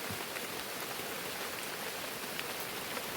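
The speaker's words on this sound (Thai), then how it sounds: "โอ้ฝนได้เต็มคักกันเลย" Heavy rain pours down steadily outside a campsite, a dense, even hiss of drops with no pauses, fairly soft and without voices.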